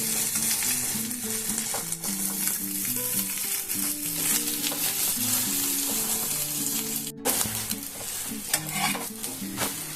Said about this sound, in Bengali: এইভাবে আমি দুটো ডিমকে আরও ভেজে নেবো